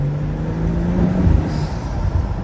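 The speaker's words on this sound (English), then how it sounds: "Listen to the intake, I swear." BMW N55 engine heard through its intake while driving, a low steady drone that swells slightly as the car pulls, with a faint tonal hum and some wind rumble underneath.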